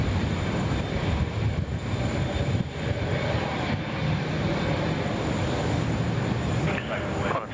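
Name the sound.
Boeing 777-300 taking off at Sydney Airport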